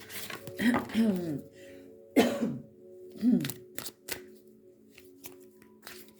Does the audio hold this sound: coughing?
yes